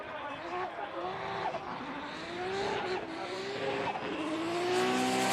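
A Toyota GR Yaris drift car slides through a corner at Fuji Speedway, engine revving and sweeping with tire squeal building as it swings through, fairly loud, with commentary voices over it.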